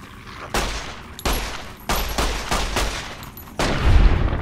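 Gunfire from the video game Fallout New Vegas, Old World Blues DLC: five loud, sharp bursts at roughly even intervals, each shot ringing out briefly before the next, heavier at the end.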